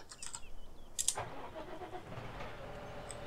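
A tractor engine hums at a low idle in the farming game Farming Simulator 17 with the Seasons mod, a steady quiet drone after a few brief clicks and a short sharp jingle.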